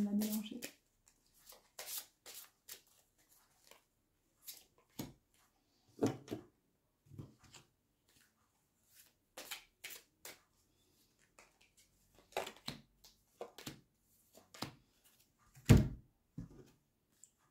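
Playing cards being reshuffled by hand on a table, producing scattered short riffling and slapping bursts with pauses between them, fairly close and moderately loud, with a voice talking at times.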